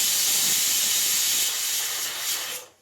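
Papdi fry in hot oil with a loud, continuous hiss-like sizzle up close that fades out at the end.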